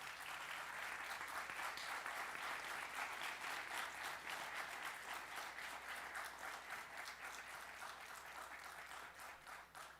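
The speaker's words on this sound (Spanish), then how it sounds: "Un aplauso para Quique." Audience applause fills a nearly full auditorium after a talk, dense sustained clapping from many hands lasting the whole stretch and easing off only slightly toward the end.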